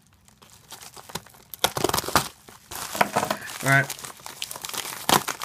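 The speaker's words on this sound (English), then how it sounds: "get your lickety dickery knife right here. Just stick it in. And you're gonna open the package" A knife is stuck into a plastic package to cut it open, giving bursts of close crinkling and tearing plastic with scraping handling noises, while someone speaks briefly in between.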